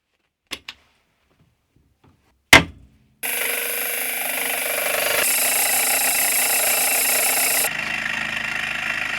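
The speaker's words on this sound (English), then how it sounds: "sawing the strips to the right width on my milling machine" A couple of sharp clicks, then a milling machine starts up and runs with a steady, loud mechanical whine and grinding as it saws metal strips to width, shifting pitch slightly.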